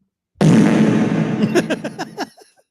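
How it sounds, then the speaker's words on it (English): A long, loud, sputtering fart-like blast that starts abruptly and breaks into a series of wet pops as it fades out. "It's just a big fart."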